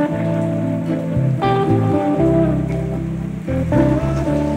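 Rain falling outdoors at night by a busy road, a steady wash of drops mixed with the low drone and tonal hum of passing vehicles.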